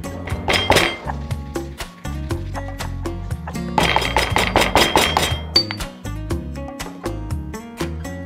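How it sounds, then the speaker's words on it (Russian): Oregano and spices are pounded in a mortar in a kitchen, a run of sharp, close knocks and clinks in irregular bursts, loud and alone with no talk. "Теперь можно слегка еще потолочь орегано."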